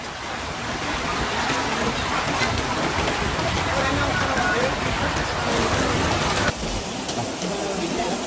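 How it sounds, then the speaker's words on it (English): Torrential rain pours down in Iligan City, Philippines, during a tropical storm, a dense, loud, unbroken hiss of falling water that shifts slightly near the end, with voices under it. "relentless torrential rains triggered massive flash floods that overwhelmed major river systems, including the Tubod River"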